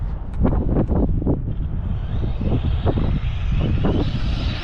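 Arrma Limitless V2 8S RC speed car at full throttle on a first run, a loud steady high-pitched motor whine with wind buffeting across the mic and no talking.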